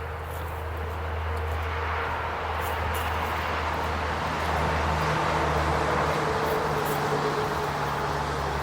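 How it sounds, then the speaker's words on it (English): Steady highway traffic drones from just outside an abandoned elementary school, a continuous low rumble of passing cars that swells slightly midway and never breaks, with no talking. "you can hear the cars going by inside the place"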